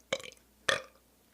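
Two distinct, fairly close burps in quick succession, the first short and rough, the second louder and drawn out, with no talking around them.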